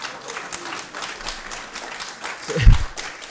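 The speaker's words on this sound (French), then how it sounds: "c'est pas moi qu'il faut applaudir" Steady applause from an audience at a talk on constitutional law, a dense patter of many hands clapping at moderate volume, with a low thump near the end.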